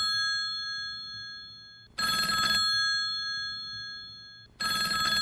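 Telephone bell ringing in two loud bursts about two and a half seconds apart, each a bright trilling ring lasting under a second and fading in between.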